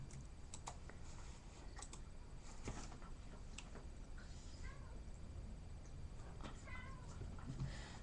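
A house cat meows several times, faint and slightly distant, over low background noise and occasional keyboard clicks.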